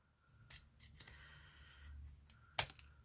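Scissors trim excess ribbon off a nested cheer hair bow: a couple of soft snips early on, then one sharp, crisp close cut near the end, quiet otherwise.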